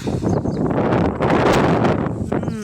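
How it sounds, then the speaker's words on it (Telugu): Strong gusty wind blows outdoors on a stormy evening in Karimnagar before a thunderstorm, roaring loudly and continuously against the microphone with rustling throughout. "గాలి కూడా ఒక రేంజ్లో వస్తుంది"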